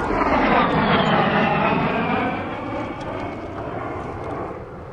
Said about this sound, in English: we're being buzzed by jet aircraft